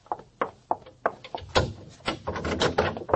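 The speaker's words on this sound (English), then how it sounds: "Open the door." Door being opened as a sound effect in a 1940s old-time radio crime drama: a series of sharp knocks and clunks, then rattling and scraping of the door, close and fairly loud with no talk.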